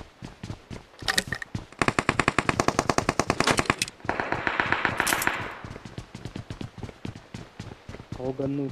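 Rapid Uzi bursts rattle out in PUBG Mobile, several loud, tightly spaced volleys with crisp repeated cracks, followed by scattered single shots and footsteps-like taps, with players talking over the action.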